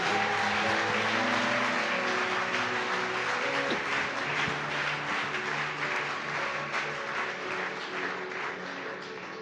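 A church congregation claps and acclaims the Holy Spirit during a morning prayer service, with sustained dense applause and a sung or chanted tone underneath, loud and steady throughout before tapering slightly at the end.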